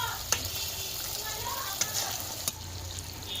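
Fish curry of aar fish sizzles in a pan while being stirred, with a steady frying hiss and a few sharp clicks of the spoon against the pan.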